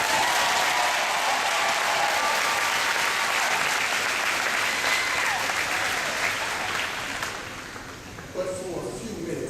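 Loud, sustained applause from a commencement ceremony audience fills the hall, holding steady for several seconds before gradually tapering off, with a few scattered claps and a voice emerging near the end.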